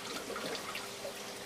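Water trickles and pours steadily through the siphon of an aquaponics grow bed, a faint, continuous liquid babble with no voices.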